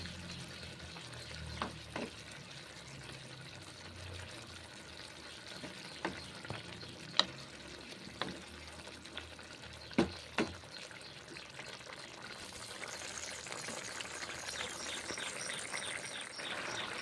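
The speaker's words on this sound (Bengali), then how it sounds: "কষে নিচ্ছি মশলা, কুমড়ো ডাঁটা আর সামান্য জল দিলাম, নিয়ে কষে নিচ্ছি এখন" Spices are stirred and sizzled with pumpkin stalks and a little water in a pan, a steady soft frying hiss broken by scattered clinks of a utensil against the pan, with no talking.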